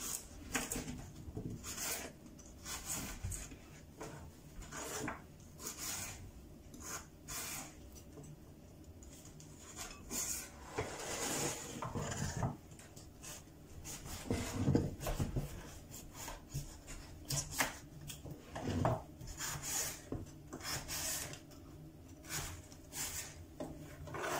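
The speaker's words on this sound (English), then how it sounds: "I'm now going to go on to cutting the carrots into long strips." A knife cuts halved carrots into long strips with close, irregular chopping and scraping strokes at a steady working pace, and no voices.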